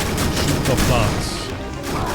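Rapid bursts of gunfire from shooting bots in a video game crackle continuously over a busy, dense mix, with a voice talking alongside.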